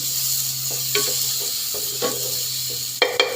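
Garlic and fried dried fish sautéing in a little oil, a low steady sizzle broken by several short scraping stirs and a sharper clatter near the end, close up with no talking.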